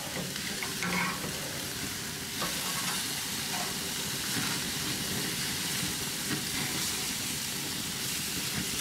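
Steak tenderized with pineapple puree sizzles on a grill, sticking and falling apart, producing a close, steady, dense crackling hiss that runs unbroken for the whole stretch with small fluctuations and no voices.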